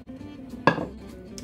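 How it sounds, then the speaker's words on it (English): A metal spoon scrapes yogurt out of a bowl in a home kitchen during pizza dough preparation, one sharp clattering scrape that trails off, close and moderately loud over a low background hum. "You might need to use a spoon to scrape out the rest from the bowl."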